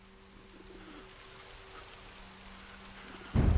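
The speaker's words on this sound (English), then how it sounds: "Don't mind the rain?" Steady rainfall hisses in the background of the cyberpunk horror game observer_, soft and continuous, with a low hum running underneath, before a sudden loud rumble of thunder breaks in at the very end.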